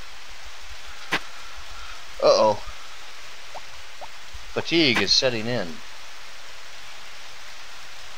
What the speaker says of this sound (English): And it's a rainy day, so I might get sick.